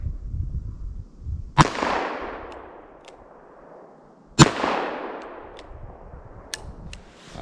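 Two loud, sharp revolver shots from a .38 or .44 Special firing semi-wadcutter rounds, about three seconds apart, each cracking sharply and then rolling off in a long echoing decay, with faint clicks between.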